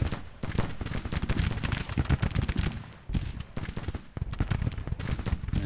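Civil War-era muskets fire in a video game battle, a dense rolling volley of many overlapping loud cracks and booms, with a few brief lulls and no talking.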